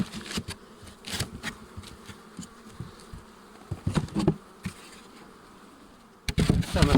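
Honeybees buzz in bursts close by at a hive, with loud swells and some quieter stretches between them.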